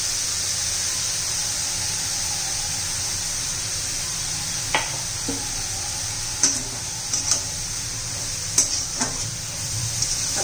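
Beetroot sabzi with grated coconut being stirred in a pan, a steady sizzle with a handful of sharp spoon-on-pan clicks and scrapes spaced over the second half, close and without voices.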